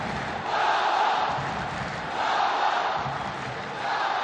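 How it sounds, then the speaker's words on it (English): A large stadium crowd at an AFC Champions League Elite football match between Al Ain FC and Al Sadd SC chants a player's name, rhythmic rising-and-falling waves of many voices echoing in the distance. "Listen to the crowd chanting his name"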